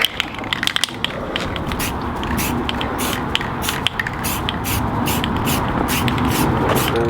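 Spray can applying gloss clear coat to car rims: a close, continuous hissing spray with a few short bursts and light clicks of the nozzle, steady and loud throughout.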